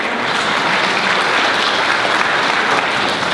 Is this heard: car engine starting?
no